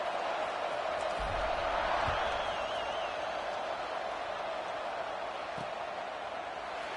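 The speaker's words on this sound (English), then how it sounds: "this crowd is buzzing after that last score" Stadium crowd buzzing in the College Football 26 video game, a steady, moderately loud murmur and roar of many voices with a faint whistle-like tone, sustained without pauses.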